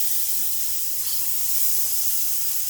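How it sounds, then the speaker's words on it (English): Jalapeño, serrano and tomatillo salsa poured into a pan of hot gravy, giving a steady, close, fairly loud hiss and sizzle that runs unbroken without any talk. "I'm going to go ahead and put probably about a 1/2 cup of our jalapeno serrano tomatillo salsa."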